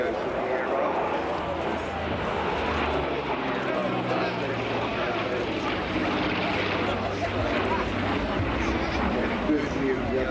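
A Douglas A-26C Invader, "Sweet Eloise II", flying at an air show: a steady piston-engine drone and propeller roar held throughout, under a commentator speaking.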